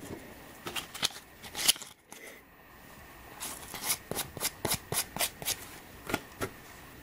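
A sheet of cork is cut in half with a blade, crisp scratchy strokes repeating in a steady rhythm up close after a short pause.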